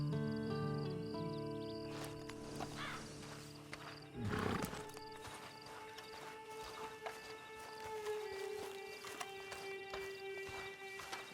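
A horse in Red Dead Redemption 2 snorts and stirs with soft hoof clops and a brief louder burst midway, over quiet ambient tones and distant outdoor sounds.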